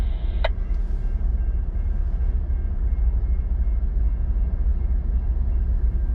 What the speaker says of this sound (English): NS 8098 in Conrail Heritage paint is leading RCHI 476 today.